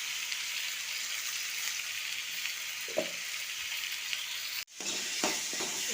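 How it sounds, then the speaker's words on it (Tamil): Tomatoes and onions sauté in a pan with a dense, constant sizzle close by, a single soft spoon tap midway, then a brief break before the frying hiss resumes. "அந்த தக்காளி, வெங்காயம் இதெல்லாம் போட்டு நல்லா வதக்கிக்கலாம்"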